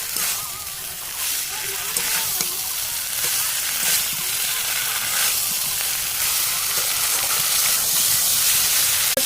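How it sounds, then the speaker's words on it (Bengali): Raw jackfruit fries in a pan of spiced oil, a steady close sizzle and hiss running the whole time with occasional stirring scrapes, while a voice talks over it. "এঁচোড়টা দেখো ভাজা হয়ে গেছে"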